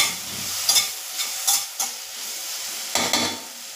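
Masala with sesame seeds, green chilli and sambar powder stirred in a new kadhai, a steady soft sizzle broken by a few sharp scrapes of the spoon against the pan, close and alone.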